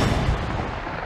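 Loud, dense burst of gunfire from a bolt-action rifle in the video game Metro: Last Light Redux, a single heavy blast rolling into sustained low rumble and echo across the whole moment.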